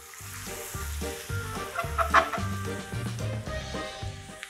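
Potato pieces are dropped into hot frying oil, the oil hissing and sizzling steadily as the fries cook, with a soft rhythmic patter running beneath the bubbling at close range.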